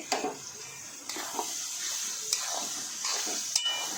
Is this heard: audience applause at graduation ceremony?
no